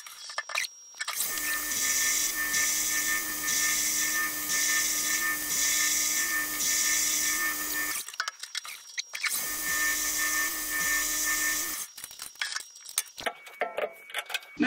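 A steady high-pitched machining whine from a PM 1440TL lathe drilling a small hole in metal runs for several seconds, stops briefly, resumes, then cuts out into scattered clicks near the end, with no talking.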